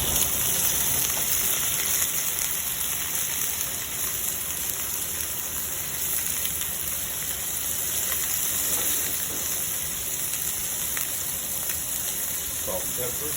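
Shrimp sizzling in a hot pan with garlic and chile de árbol for gambas al ajillo, a steady loud frying hiss throughout.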